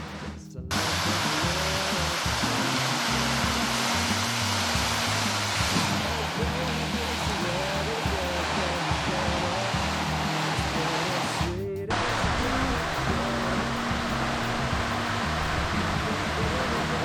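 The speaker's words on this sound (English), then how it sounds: "So this tiny little stream made that big waterfall." Small waterfall fed by a tiny stream at a natural site in Indiana, heard as a steady, broad rushing wash of falling water that stays constant throughout, with a brief dip partway through.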